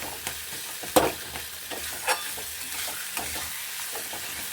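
Spice paste for soybean kofta curry being stir-fried in a kadai, a quiet steady sizzle broken by several sharp spatula scrapes and knocks at irregular intervals, with no talking.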